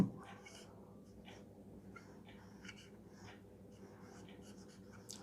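Faint, intermittent scratchy strokes of a pen writing a Bengali word by hand during a spelling lesson, coming in short bursts over a quiet room hum.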